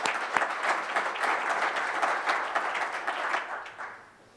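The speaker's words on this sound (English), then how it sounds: "I want to give them a round of applause as well." A round of applause from an audience at an industry event, many hands clapping in a dense wash that holds steady before tapering off toward the end.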